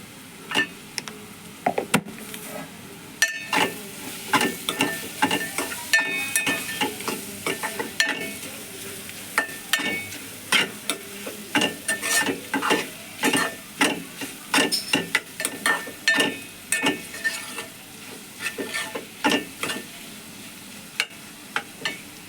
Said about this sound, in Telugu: చూసారు కదా ఎలా వేగిపోయిందో